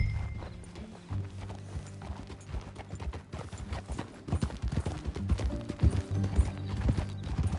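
Hooves clip-clop in a steady walking rhythm as a filly is ridden in a video game, close and clear, with a brief whinny and low game ambience underneath.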